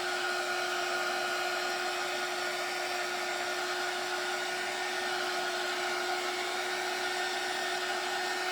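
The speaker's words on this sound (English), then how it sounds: "Let me turn off my heat gun, try not to burn anything." A heat gun blows steadily with a constant, close whirring roar and a fixed motor whine, unbroken for the whole stretch with no voices.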